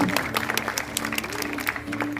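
Brief audience applause during a talk about owls and rodent control, with irregular claps over a low steady hum and some murmuring for about two seconds.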